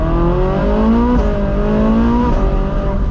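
A 12-year-old Ferrari 458 Spider with a dual-clutch transmission accelerating hard, its engine note climbing in steady loud sweeps broken by quick upshifts about every second, close and continuous with no talk.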